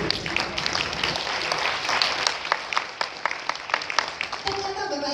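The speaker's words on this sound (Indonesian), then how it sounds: "Tepuk tangan buat Nuskin." An audience at a Nu Skin business gathering applauds, with dense clapping that stays steady and loud throughout, while a voice speaks over the applause near the end.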